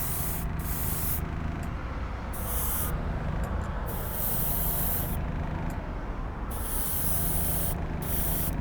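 Black cherry paint sprays onto the inside of a diecast model in steady hissing bursts, each lasting about a second, separated by short breaks. The hiss is close and continuous during each pass.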